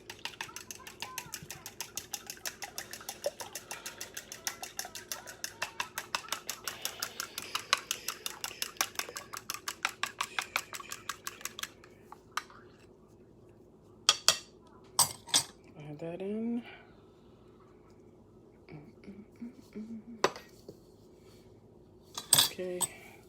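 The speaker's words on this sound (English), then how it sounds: "Again, they want you to stir it with a fork." A fork beats two eggs into sweet tart dough in a bowl, clicking against it in a fast, steady rhythm for several seconds before slowing to sparse, louder knocks and clinks.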